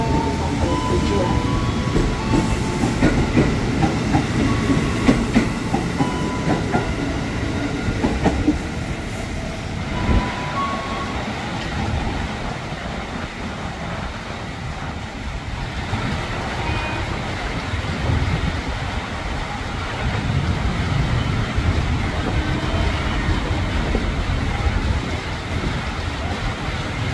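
JR 205 commuter trains, both rheostatic and VVVF types of the KRL Commuter line, rumble loudly and continuously through Cicayur station, with voices heard over the rolling noise.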